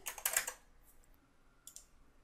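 Quick burst of computer keyboard typing while a file name is entered for a saved texture, a flurry of close clicks up front, then a few isolated keystrokes afterward, with no talking.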